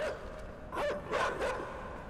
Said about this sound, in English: Get out of here, dogs!